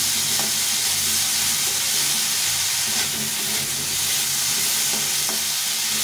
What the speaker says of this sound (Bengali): এটা একটু ভালো করে ভেজে নিতে হবে। এইভাবে শুকনো করে ভেজে নিতে হবে, একদম শুকনো করে।